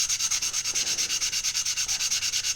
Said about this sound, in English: our sanding stick is really clogged up